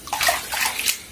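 Close, brief sloshing and splashing of floodwater being stirred or waded through inside a flooded house, with no voices.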